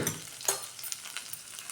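Ground spice paste fries briefly in oil, a soft crackling sizzle with a stirring scrape near the start, faint and close.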